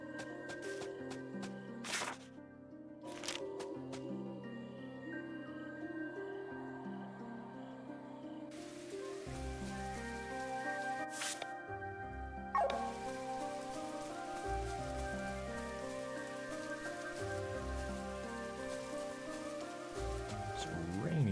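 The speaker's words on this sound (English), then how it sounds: "It's rainy out here." Rain patters steadily in the video game Chained Echoes, soft and continuous beneath layered game music with bright chimes and plucked tones.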